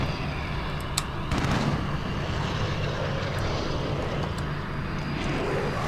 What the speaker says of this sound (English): My fucking VTOL just come over here and sat over top of me.